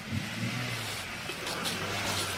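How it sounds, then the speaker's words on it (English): A car engine runs low and steady at a distance as the car arrives, a faint rumble beneath hissy background noise. "Oh my God, dude, it's a car."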